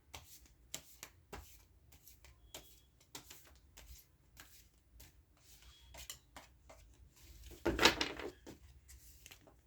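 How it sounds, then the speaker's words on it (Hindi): Tarot cards shuffled by hand, heard as a series of soft riffling bursts scattered over quiet moments, building to one louder, denser riffle near the end, with no talking. "let me just shuffle the cards"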